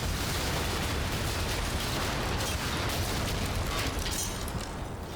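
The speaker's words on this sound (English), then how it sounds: "But they soon tear it to pieces with cannon fire." Rapid cannon fire and explosions tear apart a Bradley fighting vehicle in the war game Combat Mission: Black Sea, a dense, continuous roar of blasts and bursts filling the whole stretch with no pause.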